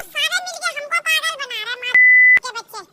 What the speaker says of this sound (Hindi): जिसे मुझे बीप से बंद करना होगा